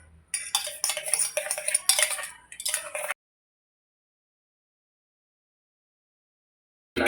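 A spoon stirs palm jaggery into a homemade summer drink, clinking steadily against the glass in close, bright bursts for about three seconds, then silence until a brief clink at the very end.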